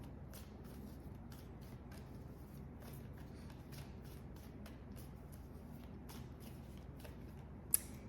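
Tarot cards are handled, shuffled and drawn with soft, repeated papery flicks and slides over a steady low background hum, and one sharp snap of a card is heard near the end.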